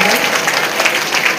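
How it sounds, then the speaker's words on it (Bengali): An audience claps loudly at an outdoor celebration of Birsa Munda's 150th birth anniversary in the Sundarbans, a dense, close burst of applause. "আপনাদের সকলকে অনুরোধ, একটা জোরে করতালি আমরা"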